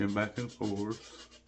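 Rough rubbing strokes of a sanding block scrape back and forth along ukulele frets in a quick rhythm, three or four passes close up.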